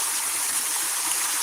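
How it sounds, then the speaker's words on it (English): A waterfall about 9 to 10 feet high in the woods roars with a steady, dense hiss of falling water, loud and close, with no voices. "waterfall."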